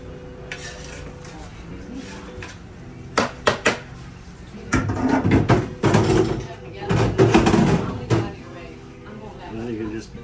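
Metal scraping and clanking as debris is scraped off the weight that holds down a fryer filter pad over a rinse pan, with bursts of scraping between quieter pauses and a voice talking throughout.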